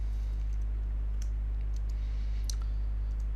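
Typing on a computer keyboard while entering text into a Microsoft Excel worksheet: a handful of sharp, sparse key clicks over a constant low electrical hum.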